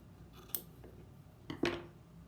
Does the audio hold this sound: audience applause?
no